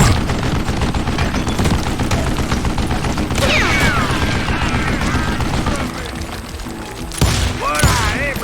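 Rapid gunfire crackles almost continuously in a zombie shootout in the Western game Call of Juarez: Gunslinger, loud and dense, easing briefly before a few more sharp shots, with a voice heard beneath.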